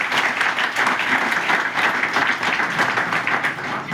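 An audience at a seminar in Haridwar claps loudly and steadily, many hands making a dense, continuous burst of applause that carries on for several seconds without talk.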